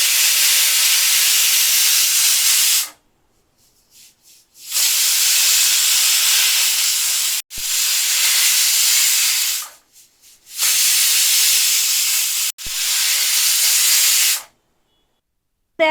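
A pressure cooker simmering mutton broth whistles in loud, sustained hissing steam bursts, about four long blasts separated by brief silences, with no voices.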